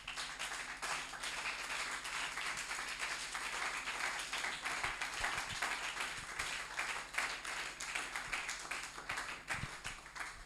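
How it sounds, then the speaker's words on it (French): A church congregation applauds in steady, dense clapping that fills the whole stretch at moderate distance, with a low hum running underneath and no voices rising above it. "Merci de m'avoir acclamé"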